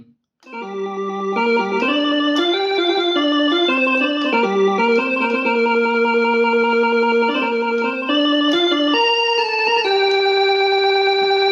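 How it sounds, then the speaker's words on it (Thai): A Casio CTK-4200 keyboard in a YC-40 organ voice plays sustained chords and a stepping melody, bright and steady, with no one speaking. "ตัวนี้เป็นเสียงออแกนนะครับ เสียงออแกน YC 40นะครับ"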